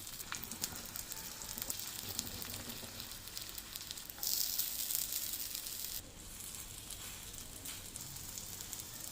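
Mini aloo paratha bites, shaped like tikki, fry on a hot dosa griddle with a steady close sizzle and crackle, briefly louder midway, with no talking.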